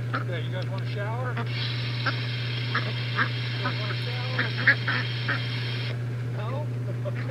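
Ducks quack in scattered bursts on a homestead over a steady low hum and a hiss of running water from a hose shower, with a person talking at times.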